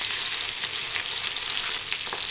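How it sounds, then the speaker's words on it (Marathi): Green chili and garlic sizzle steadily in hot oil, a dense continuous frying hiss with a few soft crackles and pops, close and fairly loud with no talking. "आता आपण तेल तापत ठेवलं आहे, याच्यात आपण हिरवी मिरची टाकूया"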